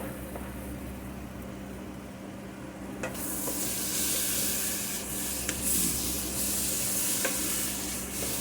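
Garlic sizzling and being stirred in a pan while French onion soup is made, a steady bright frying hiss that swells partway through, with occasional scrapes and clicks of the utensil, close up and without talk.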